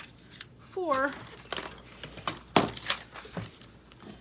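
Scissors snip through paper sheets to trim an angle, giving a few crisp, close cuts and rustles while a person speaks briefly.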